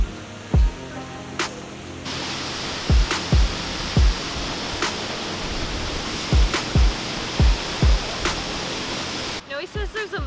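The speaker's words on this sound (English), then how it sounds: "It's actually a massive waterfall." Steady broadband roar of a massive waterfall in Minneapolis, loud and close, with sharp knocks and thumps scattered across it and a brief change in the sound near the end.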